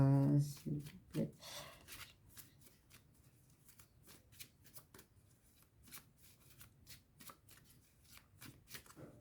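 Tarot cards shuffled by hand before the deck is cut, a run of quick papery riffles and soft rubbing taps, fairly close and quiet, with a brief voice near the start.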